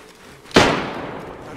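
A single sharp rifle shot from a PvP survival video game cracks loudly and nearby, then trails off in a brief echoing tail.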